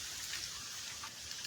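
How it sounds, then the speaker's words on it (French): Steady rain falls outdoors, a soft continuous hiss of drops with no voices. "la pluie est là. Il pleut"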